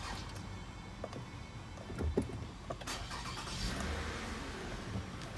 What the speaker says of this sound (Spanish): Te pasé corriente, lo voy a prender ahorita.